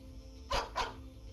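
Dogs in the video game Stormgate give two quick barks in succession over a faint game background, brief and moderately close.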